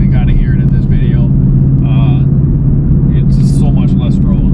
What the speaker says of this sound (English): I'll have a video of my exhaust, as you guys can kind of hear it in this video.